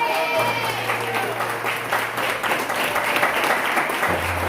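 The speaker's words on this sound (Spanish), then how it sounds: "¿Cuánto le dan un aplauso al Señor esta mañana?" Church congregation applauding during a Spanish-language Sunday morning service, steady dense clapping filling the room with a low steady hum beneath it.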